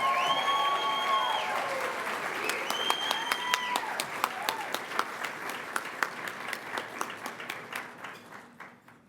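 Warm applause from a luncheon audience at a scleroderma foundation volunteer awards event welcomes an honoree to the stage, steady clapping that swells and then thins into scattered claps before fading out.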